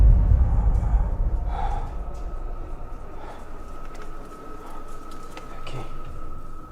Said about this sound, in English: while listening into the radio, they hear someone breathing